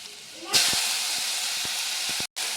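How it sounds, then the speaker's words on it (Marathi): Garlic and tomato hit hot oil in a steel kadai with a sudden loud hiss that settles into a steady close sizzle, a few soft knocks within and a very short break near the end. "स्टीलची कढई आहे ना, त्यामुळे जर जास्त तापते, म्हणून तुम्हाला तसं वाटत असेल की एकदमच फोडणी जोरात बसली आहे"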